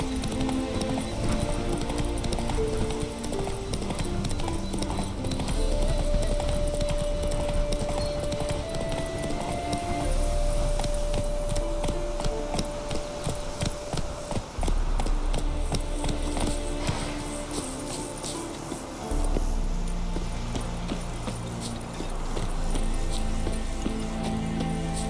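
Hooves of a horse gallop in The Witcher 3: Wild Hunt, a loud rapid clip-clop running throughout over a game score with a sustained tone, plus brief neighs.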